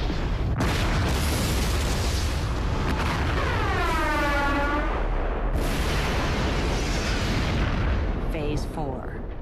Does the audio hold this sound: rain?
no